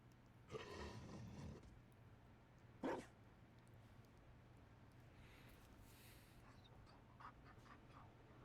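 A Mabari war dog in the video game Dragon Age: Inquisition barks and yips a few times, a short burst followed by a single louder bark, over a quiet ambient game background.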